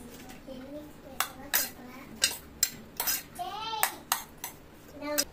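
A spoon mixes masala sweet corn in a cup, making a run of sharp, irregular clinks and scrapes against the cup. The sound is close and moderately loud, and a voice is heard faintly in the background.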